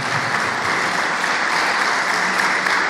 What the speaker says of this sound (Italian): non è che potete applaudire solo una volta